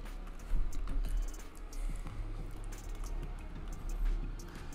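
Quiet keyboard typing as a plugin name is entered into a search box, with irregular soft key clicks in short bursts over a low background hum.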